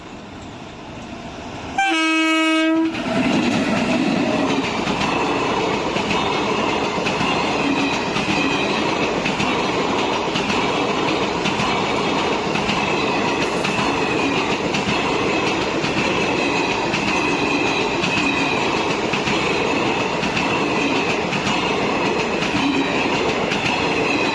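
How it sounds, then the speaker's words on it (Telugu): A train horn blares loudly for about a second at a railway level crossing, then a train rumbles past at close range with continuous rattling wheels and clacking rails. "ట్రైన్ వస్తుంది"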